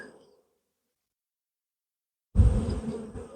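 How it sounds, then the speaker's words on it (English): Honey bees shaken into a tub burst into a loud, dense buzz after a brief silence, a close swarming drone that stays strong and slowly eases. "So nice thing also about shaking the bees in the tub is the older bees fly away"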